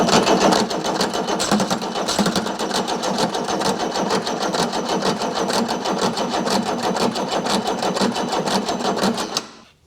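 A Chrysler Mitsubishi 6DS70 diesel engine cranks over on its batteries while the injectors pump fuel, producing a loud, steady, rapid mechanical clatter that runs without a break for about ten seconds before cutting off.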